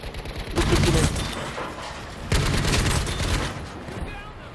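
Bursts of rapid gunfire from a Battlefield V match in an Iwo Jima attack, two loud volleys close by with a lull between them, mixed with game noise.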